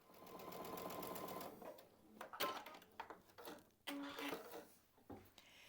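A domestic sewing machine runs steadily while stitching quilt block pieces for a sunburst quilt block, a continuous close whir for about two seconds, then short stop-start bursts of stitching with small handling clicks between them.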